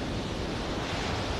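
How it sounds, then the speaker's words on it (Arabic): Rough sea waves on the Marsa Matruh coast roar as a dense, steady wash of surf mixed with wind buffeting the microphone, loud and unbroken throughout with no voices. "طبعا النهارده البحر عالي شويه"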